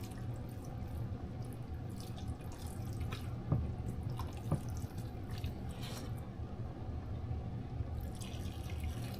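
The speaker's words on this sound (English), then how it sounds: "I'm going to start pouring it over my sweet potatoes or yams." Liquid trickles a little at a time over sweet potatoes or yams in a home kitchen, a soft steady wash of pouring with a couple of faint drips, no voices.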